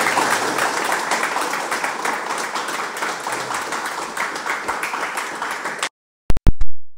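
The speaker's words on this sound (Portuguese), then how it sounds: "Uma salva de palmas aí, galera." A group at a grappling and jiu-jitsu gym claps loudly and steadily for almost six seconds. The applause then cuts off abruptly into silence, broken only by a few sharp knocks.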